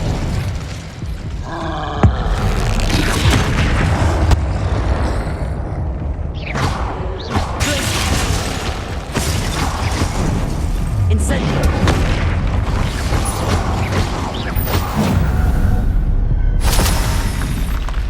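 Spell blasts from Incendio and Expelliarmus in the Hogwarts Legacy video game, a dense run of loud booming impacts and crackling bursts over a constant rumbling score, with character voices mixed into the fight.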